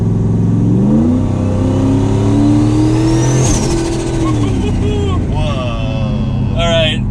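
A 1,000 HP turbocharged Ford Mustang GT accelerates hard, its engine revving up loudly and rising in pitch, with turbo whoosh and a blow-off hiss near the end as it shifts.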